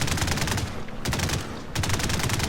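Aircraft machine guns on a PB4Y-2 Privateer bomber in the game Trailmakers, six guns firing forward in aerial combat: a dense, rapid, continuous rattle that briefly breaks off partway through and then resumes loudly.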